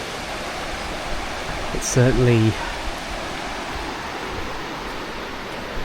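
The River Rivelin, running fuller in autumn, gives off a steady broadband rush of flowing water, briefly overlaid by a short spoken phrase.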